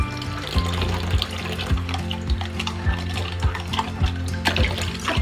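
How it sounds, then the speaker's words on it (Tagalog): Baby bottles and feeding equipment being rinsed under a running tap, with continuous close water flow broken by small knocks and clatters as items are handled in the sink. "Ngayon, gagawin ko na po is magbabanaw na."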